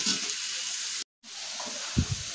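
Onions frying in oil in a pan until golden brown give a steady, close hiss that cuts out for a moment. The sizzle resumes with a couple of low knocks near the end.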